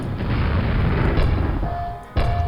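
A grenade explosion in Quake, a loud, dense booming blast that roars for about two seconds, cuts off briefly and then resumes with another burst.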